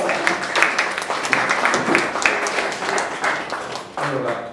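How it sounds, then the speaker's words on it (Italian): An audience applauds to welcome a speaker at a talk, a steady wash of clapping at moderate distance lasting several seconds. "Quindi grazie Giovanni Pirri, ti accogliamo con un applauso e ci racconti un po' l'esperienza."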